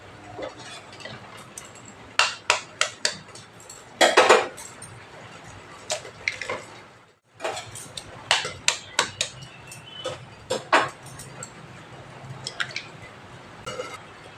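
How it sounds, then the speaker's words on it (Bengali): Eggs cracked one after another against a bowl and dropped in, sharp taps and cracks arriving in quick clusters, close and clear, with a brief silent pause midway. "বাটির মধ্যে আমি ডিমগুলো ফাটিয়ে নেব।"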